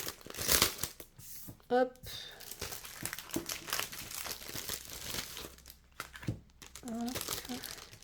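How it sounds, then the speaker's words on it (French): A plastic package holding sheets of patterned craft paper is pulled open by hand, giving close, bursty crinkling and tearing with short pauses, while someone talks briefly over it. "si j'arrive à ouvrir le paquet"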